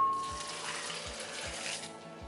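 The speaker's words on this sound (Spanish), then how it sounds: "Y le vamos a poner 2 tazas de agua." Water pours steadily from a tap into a blender jar, two cups for a cucumber salsa served with red pozole; a continuous close splashing rush with no talking.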